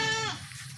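A female goat gives one short, near, nasal bleat with a wavering tone that fades quickly.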